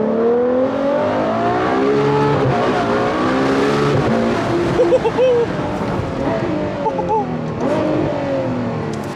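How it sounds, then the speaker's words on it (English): A Ferrari 812 GTS V12 engine revs steadily from a car interior, climbing and falling in pitch through several throttle blips, loud and close, while occupants talk excitedly over it. "now let's hear that V12."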